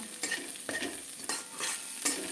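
Garlic and green chili fry in a pan on low heat with a steady, close hiss and sizzle, while a utensil scrapes and taps against the pan several times.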